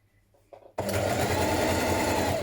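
After a few soft handling sounds, a sewing machine starts abruptly and runs steadily, topstitching close to the edge of a hoodie, a loud continuous whir held at an even pace.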